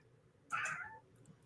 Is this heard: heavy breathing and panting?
no